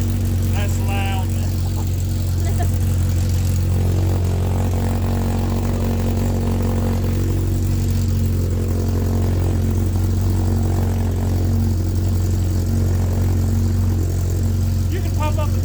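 A Polaris RZR Pro R with a side-exit exhaust drones loudly and steadily at close range throughout, a deep rumbling idle with brief voices at the start and end.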